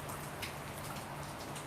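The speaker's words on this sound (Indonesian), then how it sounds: "Alhamdulillah di Dubai hujan Ki, biasanya nggak ada hujan" Rain falls steadily in Dubai, a dense, even hiss of drops pattering on surfaces with no voices, moderately close and constant throughout.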